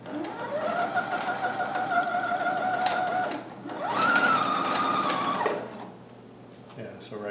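A sewing machine stitches a Hawaiian shirt in two sustained runs of fast, humming motor whir with rapid needle clatter, then a brief pause before it stops.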